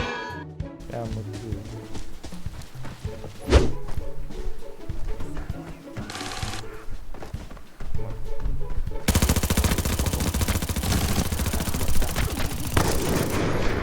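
Heavy automatic gunfire in the shooter game Arena Breakout, rapid bursts that run loud and near and grow denser in the second half, mixed with game noise and some talk.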